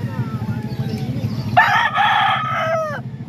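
A rooster at a chicken market lets out one loud, close crow over a continuous low hum of market background noise.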